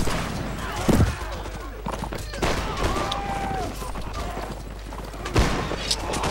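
Scattered gunfire and a couple of louder reports in a war video game battle, with shouting and talk over the shooting throughout.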